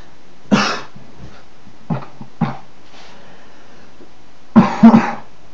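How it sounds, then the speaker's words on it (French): Harsh bursts of coughing from a person with a bad cough, a single hack, then a few smaller throat-clearing coughs, ending in a loud cluster of two or three rough coughs, close and with no talk. "je suis vraiment pris par la toux"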